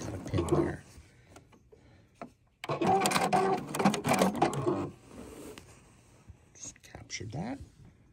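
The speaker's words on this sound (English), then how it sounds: "I'm sewing through multiple layers of fabric and trying not to catch the pins." A sewing machine stitches through several layers of pinned fabric for an art piece, its motor whirring in short bursts separated by quieter pauses, close by and moderately loud, with faint breathy sounds in between.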